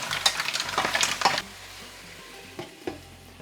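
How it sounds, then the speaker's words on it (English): Mussels being stirred in a pan of garlic sauce, giving a close run of wet scraping and sizzling for over a second, then a quieter gap with two short clinks near the end. "add your mussels. Ensure you mix them well, as you want everything to be covered by your lovely sauce"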